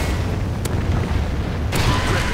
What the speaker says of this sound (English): Trinity rocket inbound.